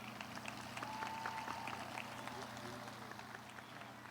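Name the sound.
audience applause for graduating students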